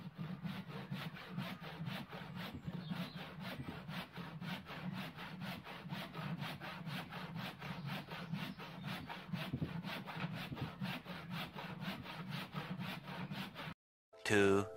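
Wood is cut by hand with a saw for a fox lean-to. Fast, even back-and-forth strokes rasp steadily and close for about fourteen seconds, then stop suddenly.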